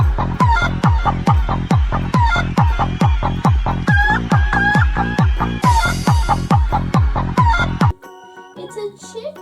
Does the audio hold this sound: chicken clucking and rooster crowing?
yes